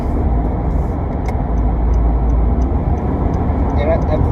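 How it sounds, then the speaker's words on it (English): Steady low road rumble and engine drone fill the cabin of a moving car, continuous and fairly loud throughout. "I'm driving right now."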